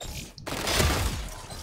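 A burst of gunfire from a first-person shooter video game, a sharp crack followed by a loud, sustained rumbling roll lasting over a second.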